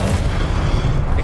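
A spell cast in Hogwarts Legacy, the disarming Expelliarmus, lands as a dense, loud booming burst of magical impact that fills the whole moment with rumbling low-end energy.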